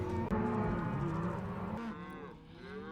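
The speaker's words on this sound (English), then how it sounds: "The cowboys will first separate the mother cows from their calves and put each group into separate holding corrals." Cattle moo during a ranch roundup as cowboys separate mother cows from their calves into holding corrals, several drawn-out bellows overlapping at moderate distance over a steady background.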